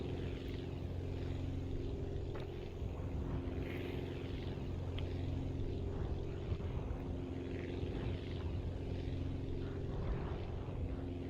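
A propeller plane from the Aviassembly video game drones steadily throughout, a low, continuous engine hum heard from inside or close by, with no voices.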